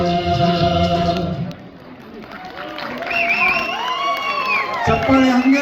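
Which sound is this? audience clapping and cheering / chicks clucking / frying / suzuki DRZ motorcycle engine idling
audience clapping and cheering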